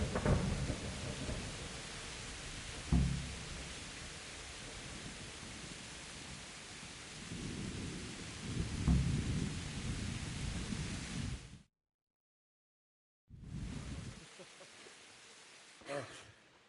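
Thunderstorm with steady heavy rain in Kingdom Come Deliverance, low rumbling thunder rolling in around the third and ninth seconds, cutting to silence briefly before rain and a sharp thunder crack return.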